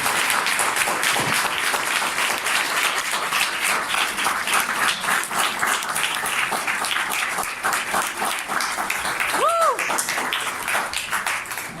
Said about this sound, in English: Let's give another round of applause to Congress, Erik Oleson.